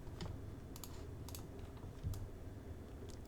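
Keyboard keys and mouse clicks tapped during 3D modeling of a bookshelf, a scattering of faint, close clicks over a quiet steady hum, sparse and irregular, with no voice.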